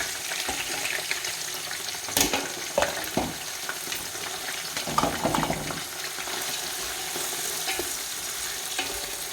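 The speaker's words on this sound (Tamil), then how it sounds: "வெங்காயம் வந்து இப்போ தான் வதங்க ஸ்டார்ட் ஆகுது" Onions sizzle steadily in a pan for chicken biryani, with loud, continuous frying and occasional clacks and scrapes of a stirring spoon. The sound is close and there is no talking.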